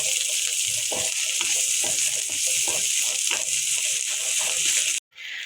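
Dried shrimp (shutki) sizzling and frying in a pan for a sweet pumpkin curry, a steady loud hiss throughout with occasional stirring scrapes, cutting off abruptly near the end.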